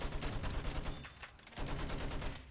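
Battlefield V gunfire from a tank battle, with dense bursts of shots and booming impacts in a continuous rapid fusillade, dipping briefly before resuming loudly.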